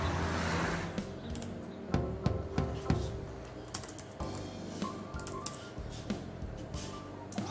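Rapid, irregular key clicks from a Bluetooth keyboard paired with a Dell Venue 8 tablet, typing into a word processor; close and crisp, with bursts and brief pauses and no talking.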